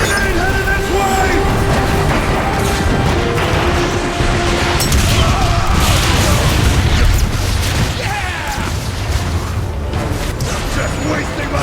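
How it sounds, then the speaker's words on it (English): A grenade detonates during frantic combat in the Transformers: Fall of Cybertron video game, the loud boom and bursting debris rolling through continuous dense battle noise, with shouted voices over the din. "Grenade headed this way!"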